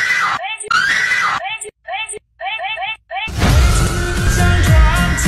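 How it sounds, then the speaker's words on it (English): Loud, high screams in a meme edit over a picture of the Pokémon Regirock. The screams come in rapid, choppy, stuttering bursts with abrupt cuts between them, then give way to a dense, noisy roar. "they posted a photo of Yassified Regirock with Jaffe screams over the top of it."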